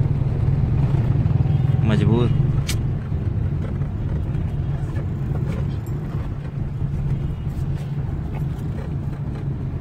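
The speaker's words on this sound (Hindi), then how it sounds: "देखे हम लोग फंसे हुए इस टाइम फुल ट्रैफिक में" Vehicles idle and creep in a nighttime highway traffic jam, a steady low engine drone with occasional horn-like tones and passing motor noise, heard under someone talking close by.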